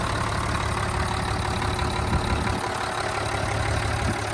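A Mitsubishi 5.0-liter inline-six diesel engine in a 1995 Mitsubishi Fuso FH100 truck idles steadily up close, a constant low rumble with a faint knocking texture and no voices.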